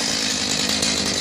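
A Stihl MS310 chainsaw runs loud and close, its dense, steady engine roar continuing without a break through the short stretch.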